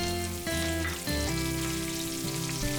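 Mustard seeds and curry leaves frying in hot oil in a pan, a loud, dense continuous sizzle with crackling spatter and faint tonal hum underneath.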